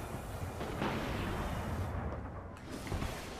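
A Nova Bomb explosion in the video game Destiny makes a dense, roaring boom that stays loud and sustained throughout, with no talking.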